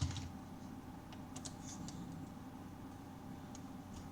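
Quick light keystrokes on a computer keyboard, close and fairly quiet, tapping in an uneven run over a soft steady room hum.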